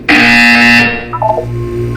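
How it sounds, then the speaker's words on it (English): Harsh, loud electronic buzzer from the Portal 2 video game, a single sustained tone lasting nearly a second before cutting off, followed by faint chiming game sounds. "You will hear a buzzer."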